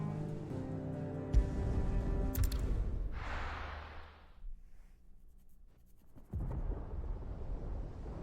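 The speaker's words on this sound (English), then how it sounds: "Sounds like thunder." Thunder in the video game Final Fantasy XVI: a heavy low rumble over a rich game music bed, swelling into a rolling crackle midway before the score returns.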